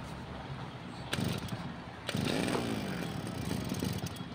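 A grass cutter's small engine sputters into life after a pull, catching at about one second, surging louder near two seconds, then running steadily at close range with a rough, buzzing idle.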